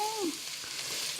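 Onion and garlic sizzle in a hot pan, the first step of stir-fried Hokkien noodles, giving a soft, brief, steady frying hiss.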